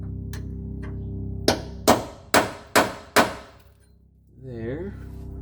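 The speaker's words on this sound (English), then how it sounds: "punching holes into the frame to mark where I'm going to be drilling" Five sharp metallic hammer strikes drive a punch into a vehicle frame while marking drill holes for a fuel pump install, evenly spaced and close, over a steady low hum, followed by a brief bit of speech.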